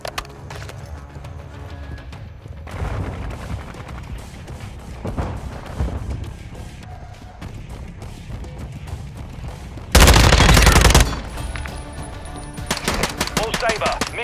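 Automatic weapons rattle in a military shooter match, bursts of gunfire and a loud blast over radio-style chatter and a pulsing background, with rapid fire clustering toward the end.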